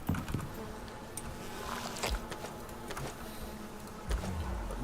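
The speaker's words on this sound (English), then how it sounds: "But look at all those bees." Bees buzz in the survival video game Icarus, a soft, continuous insect drone with faint clicks and light taps over a low background hum.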